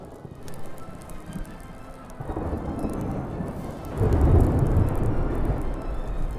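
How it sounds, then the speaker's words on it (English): Thunderstorm in the video game Smalland: Survive the Wilds, with steady heavy rain and deep rolling thunder that swells louder midway and stays loud, with no speech. "Now we just have to wait out the storm, basically."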